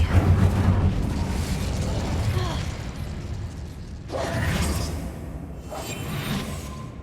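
A fire spell cast in Hogwarts Legacy, a loud whooshing burst that swells and fades twice over a dense rumbling game mix, with a voice briefly at the start.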